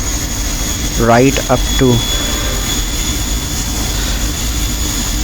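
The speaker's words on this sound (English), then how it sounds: "Full military thrust without afterburners." A MiG-21 jet engine at full military thrust without afterburners in a flight simulator gives a loud, steady roaring drone with a thin high whine, as someone briefly speaks over it.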